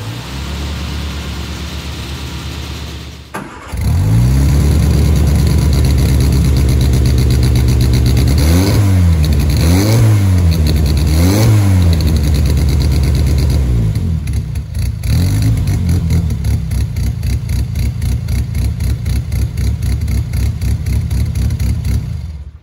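A Sprinzel Sebring Coupe catches on a cold start after a short quiet lead-in, then settles into a loud, close engine note with three rising-and-falling revs before holding a steady, slightly uneven idle.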